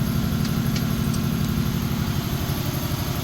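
A running car engine with its air conditioning compressor on, giving a steady, low, pulsing idle hum that is close and continuous with no talk.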